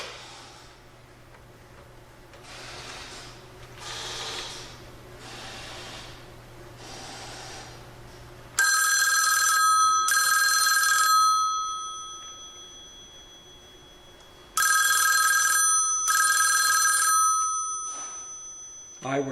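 An old telephone on a step-by-step rotary exchange line rings in two loud, bright bursts of bell clatter with a pause between, after softer hissing and muffled handling sounds.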